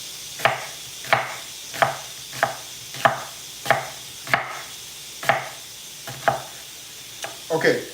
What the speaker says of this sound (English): Okay, a little saute on the onion.